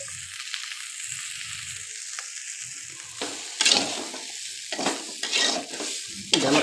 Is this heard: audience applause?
no